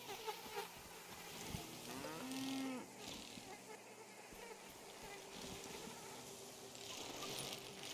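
On a farm, a cow gives a single faint, brief moo around the middle, surrounded by buzzing insects and low background noise.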